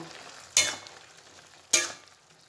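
Poppy seed paste being stirred into aloo posto in a pan: two distinct scraping strokes of the spoon stand out over a low, quiet sizzle.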